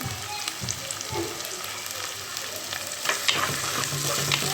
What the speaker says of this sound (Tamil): இதை நல்லா வதக்கி எடுத்துக்கலாம்.